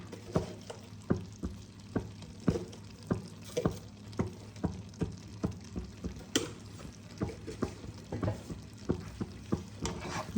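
Mixed vegetables with chopped coriander stirred in a frying pan, a steady run of rhythmic scraping strokes about once per second over a soft sizzle, close and fairly quiet with no voices.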